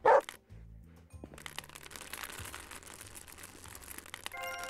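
Dogs in a dog rescue video game give a short, loud bark at the start, then softer crinkling and small game sounds continue with faint tonal effects.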